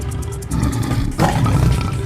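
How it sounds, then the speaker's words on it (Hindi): A tiger roars as a sound effect in an animated children's story, a loud, rough, sustained growl that swells in force partway through, with no talking over it. "गोलू जानवर की दहाड़ को कोसों दूर से सुनकर महसूस कर सकता था।"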